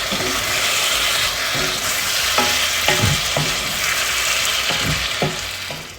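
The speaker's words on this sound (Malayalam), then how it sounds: "വിനീഗറൂടെ ഒഴിച്ച് ഒന്ന് മിക്സ് ചെയ്ത് കൊടുക്കുക." Vinegar being stirred into white lemon pickle, a steady wet sizzle-like hiss with repeated scraping stirs of a spoon against the pot, close and fairly loud throughout.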